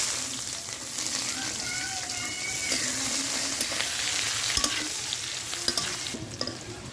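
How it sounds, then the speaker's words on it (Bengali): Onions with garlic and dried red chilli fry in hot oil for a dal tempering, a dense close sizzle with continual stirring scrapes and a few louder clinks. "পেঁয়াজ লাল লাল করে ভাজি দিচ্ছি"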